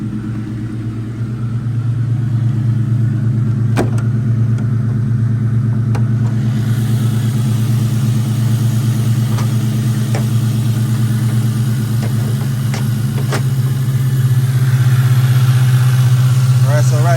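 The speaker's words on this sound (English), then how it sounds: "Ain't much of a cold start right now, still ain't got no exhaust on it." A 2003 Ford Mustang engine idles with no exhaust fitted, giving a steady, loud, raw drone held close for the whole stretch, with a few sharp clicks and knocks over it and the rumble swelling near the end.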